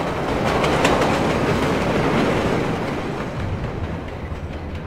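A train running in the video game Splinter Cell Blacklist: a loud, steady rumbling roll with rhythmic clickety-clack of wheels over rail joints, gradually easing slightly in volume.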